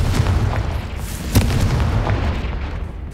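A Confringo blasting spell goes off in Hogwarts Legacy, a loud boom with a sharp crack in the middle over a rumbling, continuous roar of combat noise, with no talking.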